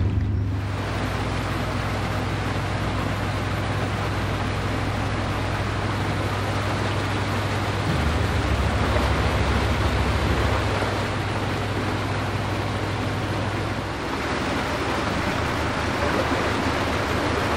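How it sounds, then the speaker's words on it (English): Steady broadband rushing and churning of water driven by a pump lifting it from below a canal lock to above, a continuous loud roar with a low hum that shifts partway through, with no talking. "The noise you can hear is the pump pumping the water from below the lock, and it comes out above the lock"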